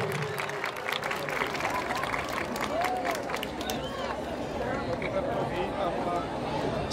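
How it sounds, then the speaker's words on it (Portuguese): A crowd claps during a civic Independence Day parade for Brazil's 7 September, the applause steady and broad under crowd noise with a voice speaking over it. "Pode aplaudir."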